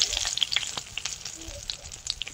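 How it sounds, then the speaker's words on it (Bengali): Dried red chillies frying in hot oil, with close, crackling sizzle and spitting pops throughout, the sound fairly loud and even without talk. "ভাজা তেলের মধ্যে শুকনো লঙ্কা কেটে দেবো কচুর শাক বসানোর জন্য।"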